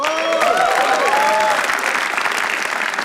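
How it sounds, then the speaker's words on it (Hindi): An audience claps and cheers at a live comedy roast battle show: dense, loud, sustained applause fills the whole stretch, with a few whistles ringing over the crowd noise. "तो एक बार पवित्रा के लिए तालियां हो जाए फिर"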